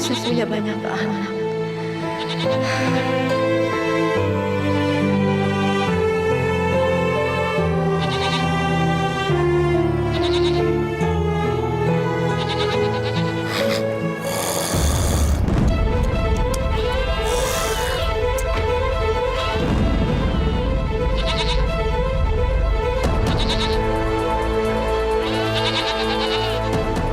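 Goats bleat repeatedly over a steady bed of music, with voices talking now and then through the clip.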